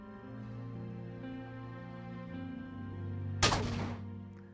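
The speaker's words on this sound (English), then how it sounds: "I'm going to break out the explosive forearm weapon here and shoot this cornucopia" A single loud shot from an explosive forearm weapon in a Tomb Raider level editor game, a sharp blast with a crackling tail over a steady droning game soundtrack.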